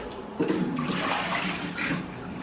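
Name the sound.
water being emptied from a Keurig brewer reservoir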